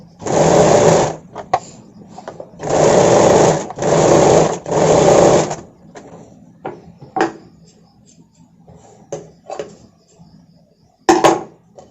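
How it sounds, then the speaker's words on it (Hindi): An electric sewing machine stitches a blouse hook strip in four loud bursts of rapid whirring, each lasting about a second. Quieter clicks and fabric handling fill the pauses between them. "हुक पट्टी के साइड की तरफ से सिलाई लगा लूंगी"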